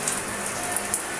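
Light drizzle falls outdoors, a soft continuous patter of fine raindrops with no talking over it.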